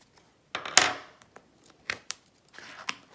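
A super sharp cutter slicing through planner paper: a few short crisp scraping cuts and ticks, close and fairly quiet, separated by near silence.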